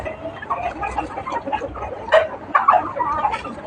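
Fighting cocks on a Thai gamecock farm cluck and call in scattered bursts, fairly close and moderately loud, with some faint barking-like noises mixed in.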